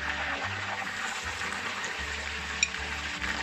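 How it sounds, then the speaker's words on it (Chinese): Chicken drumsticks marinated in fermented bean curd, Hakka style, deep-frying in hot oil over high heat, giving a steady, close sizzle and bubbling throughout with low hum beneath and no talk. "现在我们再次把鸡腿放下油锅中"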